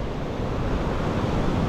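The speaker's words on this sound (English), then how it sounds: "Water's pretty rough on this side." Rough ocean surf off Kauai, Hawaii, under thick rain clouds, rolls in as a steady, loud wash of broadband roar with wind buffeting the microphone and no voices.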